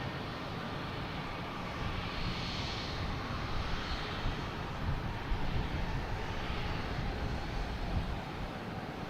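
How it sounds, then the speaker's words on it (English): A Delta Airlines Embraer E175 takes off at Boston Logan Airport, its distant engine roar a steady, faint rumble mixed with wind noise throughout. "we have Delta Airlines taking off over here"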